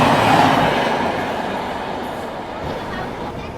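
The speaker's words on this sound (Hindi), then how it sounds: "बाकी 2 मिनट के स्टॉप के बाद में अपनी ट्रेन निकल चुकी है दिलदार नगर जंक्शन रेलवे स्टेशन से भी" The 15744 Farakka Express, a Delhi to Malda passenger train, rolls on its rails after pulling out of Dildarnagar Junction station, giving a steady, loud rumble of wheels and carriage noise that eases slightly and holds continuous throughout.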